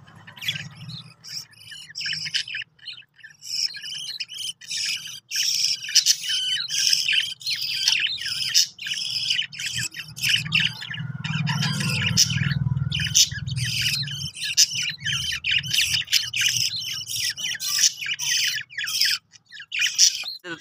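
Pet birds squabbling and fighting in their cage, giving loud, continuous squawks and rapid chirps throughout, with a low background hum underneath.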